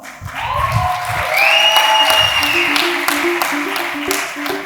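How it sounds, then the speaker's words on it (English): A graduation ceremony audience applauds the teachers at Atlantis The Palm, Dubai: steady, dense clapping from a large crowd fills the room, with music or tones playing over it. "so let us all applaud for them."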